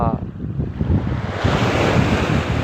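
Strong wind sweeps along the coast, roaring loudly and steadily against the microphone, with waves surging onto the shore beneath it.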